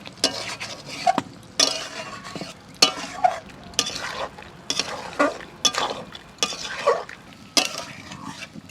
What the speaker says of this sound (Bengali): আর কড়াইতে চাপিয়ে দিয়েই নাড়তেই থাকতে হবে,